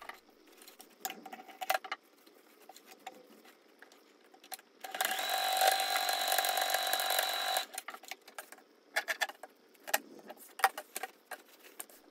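Sewing machine stitching the pocket bottom of a fabric bag, a steady mechanical whirring burst of about three seconds, framed by quieter handling clicks and rustles of the fabric before and after.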